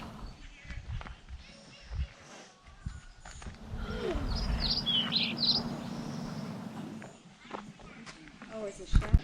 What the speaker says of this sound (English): It's the sound of birds.